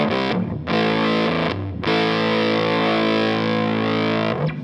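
Electric guitar run through a Big Muff fuzz pedal with its tone circuit bypassed: thick, sustained distorted chords, loud and saturated, with a couple of brief gaps between held notes and no talking.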